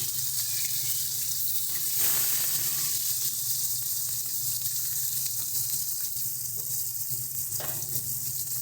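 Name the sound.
rohu fish pieces frying in a pan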